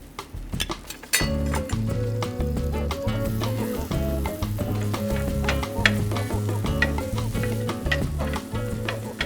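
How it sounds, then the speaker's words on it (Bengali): Vegetables sautéing in butter in a pan, a continuous sizzle with stirring and a few utensil clinks, heard under loud background music. "এটা আমি একটু বাটার দিয়ে সতে করে নেবেন।"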